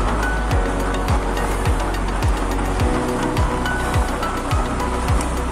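Homemade used-oil stove burner roaring steadily under pressure, a loud continuous broadband rush with a regular low thumping pulse about twice a second, no voices.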